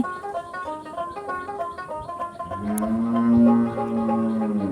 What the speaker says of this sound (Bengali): আমাদের কিন্তু অনেকগুলো গরু আছে গরুতে ডাকতেছে